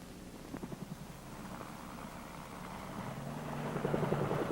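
A military helicopter of a Marine squadron flying, its rotor a steady low thrumming drone with faint blade chop that grows louder toward the end, alone without speech.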